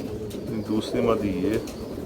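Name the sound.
female pigeon cooing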